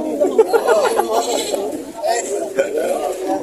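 Goats bleat at a livestock market where goats are being sold, with several bleats rising over constant close chatter and bargaining voices throughout.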